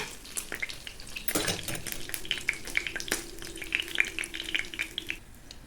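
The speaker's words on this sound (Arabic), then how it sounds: "نخليو الزيت حتى يسخن مزيان، عاد نديرو السمك ديالنا." Fish fries in hot oil with a close, continuous crackling sizzle. Light stirring and pan noises sit under the frying, and a sharper splash of sizzle rises early on.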